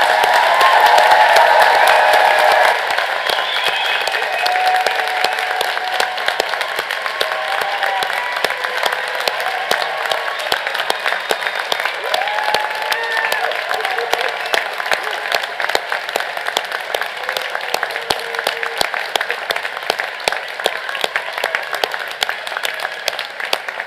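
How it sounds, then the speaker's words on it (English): A graduation ceremony audience at Methodist University, 2023, gives sustained, loud applause, dense crackling clapping filling the hall, with scattered whoops and cheers rising above it. "Let's give them all a round of applause."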